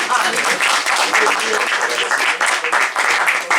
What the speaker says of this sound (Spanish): un aplauso a ella, a mí